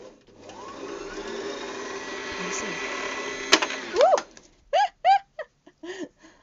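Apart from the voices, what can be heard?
sewing machine stitching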